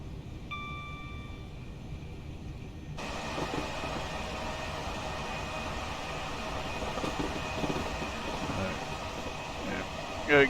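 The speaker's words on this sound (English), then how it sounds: "We have class 90 coming by." A Class 90 locomotive rumbles past with a steady, broad rush of noise in a train simulator game, after a brief tone, while someone talks over it.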